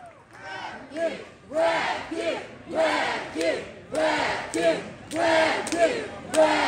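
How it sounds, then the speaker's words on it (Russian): A concert crowd at Aurora in Saint Petersburg cheers and shouts in rhythmic, chant-like bursts. The noise is loud and close and swells steadily, with voices hollering together. "Дайте шум еще раз для Никиты, пожалуйста."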